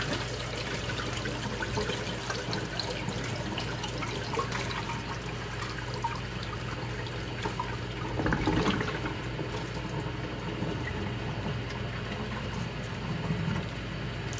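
Water runs from a tap at full flow into home film-developing equipment, a steady close rushing stream that swells briefly partway through.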